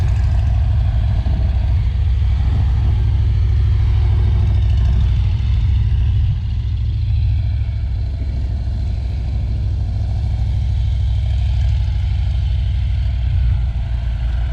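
Steady, loud low-pitched engine rumble runs throughout, like three motorcycles idling nearby with slight revving swells.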